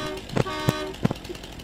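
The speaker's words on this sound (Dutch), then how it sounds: "Hoor je dat ik ga toeteren" A car horn in the farming game Farming Simulator gives several short toots in an uneven rhythm, loud and close, with a little background game noise between blasts.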